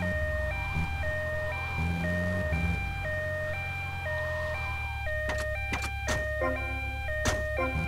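An ambulance siren in the video game GTA Vice City wails in a steady two-tone pattern over a low engine drone, with a few sharp game clicks and bangs near the end and no speech.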